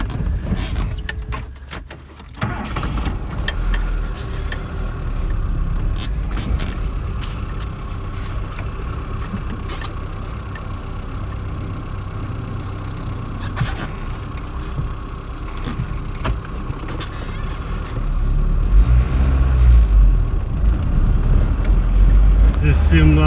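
Inside a LuAZ-1301 off-road car creeping slowly along a snowy winter road, a low engine rumble runs steadily with rattles and bumps, while people talk over it.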